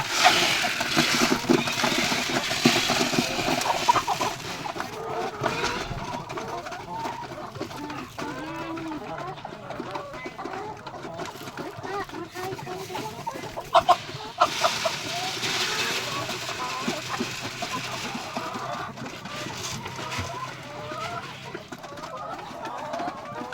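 Egg-laying hens cluck and murmur steadily throughout on a layer farm of about thirty birds, with someone talking over the flock and occasional louder squawks.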